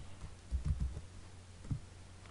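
Keys on a computer keyboard are typed in AutoCAD in short clustered bursts of soft clicks with pauses between, close and fairly quiet, with no talking.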